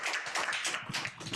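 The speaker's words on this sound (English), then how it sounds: "we need to give ourselves a round of applause for that as a country" An audience at a South African post-election leadership event breaks into a round of applause, a dense patter of many hands clapping steadily for over a second, fairly close and lively.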